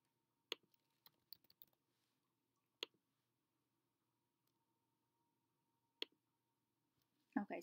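Sparse keystrokes on a computer keyboard as transaction details are typed in, a few scattered quiet clicks and short bursts separated by long pauses in a silent room, ending with a brief louder rustle.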